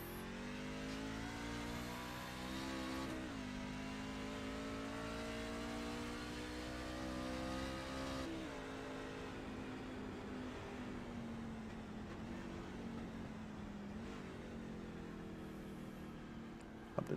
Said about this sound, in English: But you can see or you can hear that engine